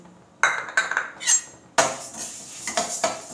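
Moong dal dry roasting in a pan for idli podi, heard as a few sharp metallic scrapes and clinks of a spoon against the pan, then a denser run of rattling and scraping, close and fairly loud with no talk.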